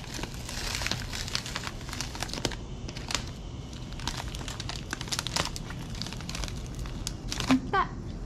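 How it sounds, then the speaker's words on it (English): Plasti Dip rubber coating is peeled off a teardrop camper, giving a steady crinkling, tearing rustle close by, with a sharp squeak near the end and a voice talking over it. "and then you can peel it off."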